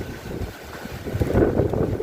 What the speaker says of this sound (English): it's going to be a rainy, windy day